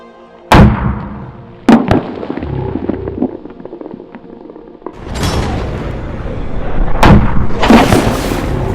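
An axe chops through a soda can outdoors, giving sharp loud impacts at irregular intervals, each followed by a brief spray or rustle, with a longer noisy stretch near the end.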